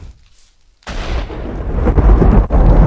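Lightning strikes set off by custom lightning TNT in Minecraft: after a near-silent moment, a sudden loud crack opens into deep rolling thunder that swells and rumbles on.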